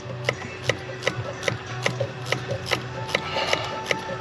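A clamp being tightened during a Blaze intake install on an Audi S3, giving a steady series of short rasping clicks, about two or three per second, close up over low workshop hum.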